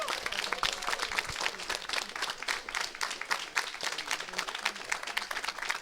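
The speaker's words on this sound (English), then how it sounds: "a quick round of applause for the entire ESA crew" Audience applause for a tournament's ESA streaming crew, a steady round of clapping from a crowd lasting several seconds without a clear break.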